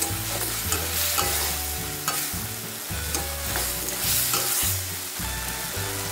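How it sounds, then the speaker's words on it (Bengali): Fried potatoes are stir-fried with a spice paste, making a loud, close, continuous sizzle broken by rhythmic scraping strokes of a spoon about twice a second, with no talking. "এবার ভেজে রাখা আলুগুলো দিয়ে দিলাম মশলার সাথে ভালো করে কষিয়ে নিচ্ছি"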